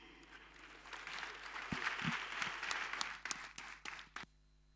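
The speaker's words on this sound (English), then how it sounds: "Ladies and gentlemen, a round of applause," A summit audience applauds in a moderate, fairly distant patter of clapping that swells and then thins out, with a few louder individual claps standing out before it fades toward the end.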